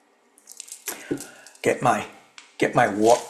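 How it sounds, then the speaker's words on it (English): A water rattle made from a piece of Oregon kelp is shaken during a meditation gathering, producing sloshing, dripping swishes in a few separate bursts, close and fairly loud. "this is my water rattle. It's pretty cool. This is made out of a kelp piece out of Oregon"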